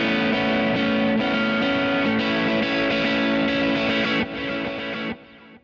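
Heavily distorted electric guitar chords played through a Kemper profiling amp ring out in a few sustained strums, gritty and loud, the last one cut short.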